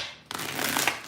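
Tarot cards shuffled once in a short, close riffle, a quick papery burst after a brief pause.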